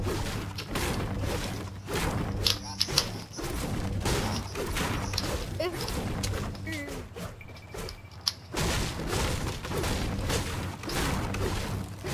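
Gunfire in a shooter video game crackles in repeated bursts and single shots, with thuds and whooshes of in-game action, moderately loud and busy across the whole stretch.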